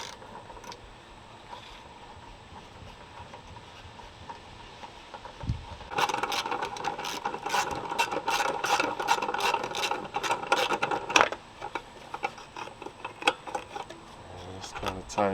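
A ratchet wrench turns during electrical service work at a power-outage call, giving rapid bursts of clicking and rasping at close range that start after a quiet stretch and come in uneven runs.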